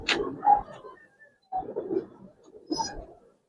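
Giribaz coloring pigeons in a loft give a few soft, low coos in three short bursts separated by brief silences, close and fairly quiet.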